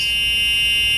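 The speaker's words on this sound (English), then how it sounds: "Reverse buzzer." The reverse buzzer of an EZGO TXT golf cart sounds as a steady, high-pitched electronic drone, loud and continuous throughout with no pauses and no voices over it.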